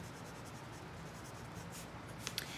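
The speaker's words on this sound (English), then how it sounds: "So I'm going to write this down" Pen or marker writing out a math definition, a continuous soft scratchy stroking noise, close and quiet, with a couple of tiny taps near the end.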